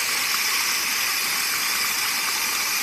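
Water gushes hard from an irrigation line outdoors, a steady, loud, broadband rush that holds unbroken throughout with no pauses.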